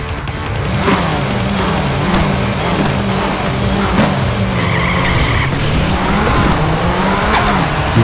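Blown Mini Cooper race car in the Nitronation racing game, a loud continuous engine drone with tire skids and shifting pitch sweeps throughout, no talk.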